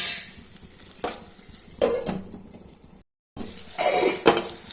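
A metal lid clatters onto a pan of cooking tomato pieces, several close clinks and scrapes of cookware with a brief gap of silence before more rattling.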